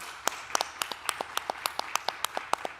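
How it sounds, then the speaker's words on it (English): Sparse clapping in a lecture room after a science talk: a few separate claps, close and sharp, arriving in an uneven but steady rhythm over quiet background. "Maybe you are hearing the applause in the room."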